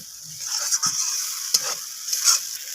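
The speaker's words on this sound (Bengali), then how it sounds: "তো এবার আমি এটাকে কষিয়ে কষিয়ে রান্না করে নেব কিছুক্ষণ ধরে, যতক্ষণ এর থেকে তেল ছেড়ে আসছে।" Masala cooks down with yogurt and cashews for doi katla, sizzling steadily in oil while a spoon stirs through it, with a few soft scrapes rising over the constant close hiss.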